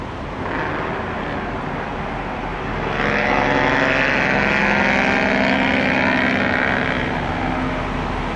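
A truck without mufflers blasts its engine brake at a truck stop in Denton, Texas, a loud continuous roar that swells after a few seconds and holds steady, with no talk.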